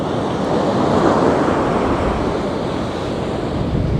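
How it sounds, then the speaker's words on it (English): Sea waves breaking on the shore at Happisburgh on the Norfolk coast, a steady broad roar of surf with wind buffeting the microphone, continuous and close with no voices. "As for the waves, that is something else, isn't it?"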